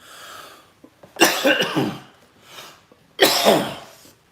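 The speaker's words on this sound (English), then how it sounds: "Got to have a cough." Two harsh, loud coughs about two seconds apart, each a short burst of rough bursts, with quiet breathing between them.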